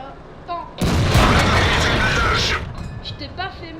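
A tank cannon fires in World of Tanks, a loud close boom that bursts out and rumbles for nearly two seconds before fading under faint game sounds.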